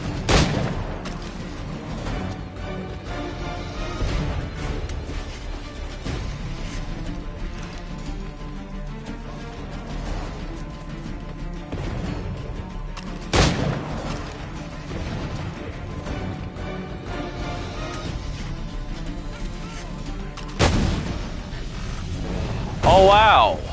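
Gunfire and crashing impacts from shooting in the game Assassin's Creed 3 Remastered, several sharp loud bursts spread over a continuous game soundscape, with voices talking throughout.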